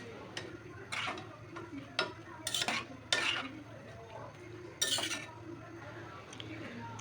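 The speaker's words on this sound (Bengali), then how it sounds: "তো লবণ দিয়ে আবার নাড়তে থাকলাম।" A spoon stirs a lentil and Malabar spinach curry in a pot after salt goes in, giving scattered scrapes and light clinks that come in short bursts close by, with no talking.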